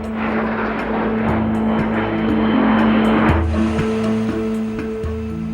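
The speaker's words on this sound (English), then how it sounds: "Among these aerobatic jet fighters is the Sukhoi 25." A Sukhoi Su-25 jet fighter at an aerobatic display flies over with a sustained, loud engine roar and steady droning tones, heard alone without speech.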